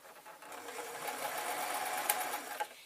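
A sewing machine stitches fabric for a pillowcase or blouse, giving a steady, close mechanical whirring rattle that runs unbroken throughout.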